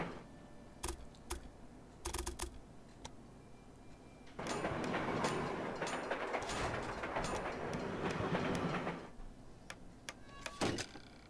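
Trains run in the video game Railway Empire on a Northern Europe map, a steady rolling rail rumble swelling for several seconds in the middle, framed by scattered sharp clicks from a mouse or keyboard.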